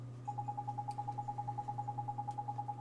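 An owl character in the video game Ni No Kuni gives a rapid, evenly pulsed hooting trill that runs steadily for over two seconds, moderately loud over a low background hum.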